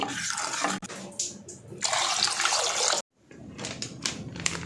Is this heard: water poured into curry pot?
yes